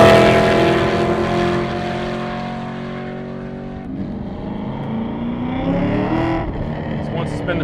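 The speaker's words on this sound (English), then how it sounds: "So once you spin the tires in second gear, that's a good sign." A 636 hp Hennessey Z/28 Camaro accelerates hard, its loud engine note climbing then dropping at a shift before rising again as the tires spin in second gear, close and dominant throughout.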